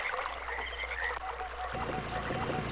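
A generator in the Myst video game hums as a steady low engine-like drone, running continuously beneath water ambience and a faint high whine.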